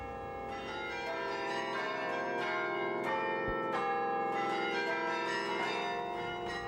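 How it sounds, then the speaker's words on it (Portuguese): Many carillon bells in a tower of the Mafra convent ring together in a rich, sustained clangor, with new strikes layered over the lingering resonance, steady and fairly loud, no voices. "carrilhões são conjuntos de sinos."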